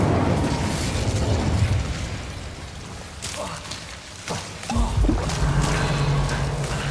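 Incendio fire spell cast in the game Hogwarts Legacy, a rumbling burst of flame and blast noise that dips briefly and then swells again into a low roar, loud and close.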